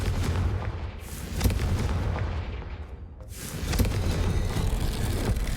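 Confringo fire spell from Hogwarts Legacy, a sustained roaring blast of fiery explosions and rumbling booms that swells, briefly dips, then surges again, loud and continuous with no voices.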